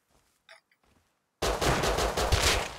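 Gunfire in the survival game Rust comes as a dense, loud burst of shots after a near-silent start with a few faint clicks, continuing for over a second.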